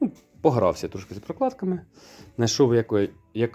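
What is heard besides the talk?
None of the usual background noises is heard.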